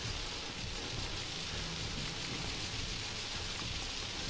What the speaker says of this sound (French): Puis on voit rien avec cette pluie.